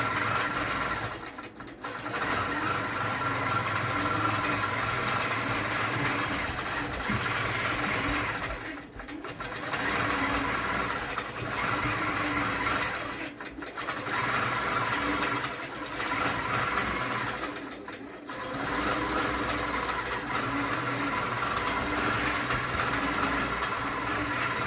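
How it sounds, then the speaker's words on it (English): A long arm quilting machine stitches a sunflower quilt with a steady, continuous mechanical hum, broken by a few brief pauses, close and loud with no talk. "a little bit of the long arm quilting so you guys can see it up closer"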